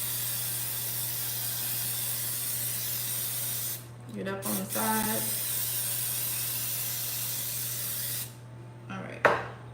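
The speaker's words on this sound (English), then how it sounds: "So we're gonna spray the hell out of the pan" Steady cooking spray hissing onto a cake pan almost continuously, broken by two brief pauses where a voice speaks, then another short burst near the end.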